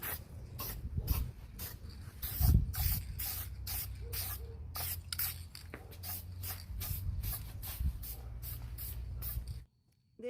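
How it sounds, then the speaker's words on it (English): Rapid bursts of an aerosol spray can coating small scooter parts, short hissing blasts repeating in a steady rhythm close by, ending in a brief silence. "This here is also another professional way of painting, spray painting the smaller things."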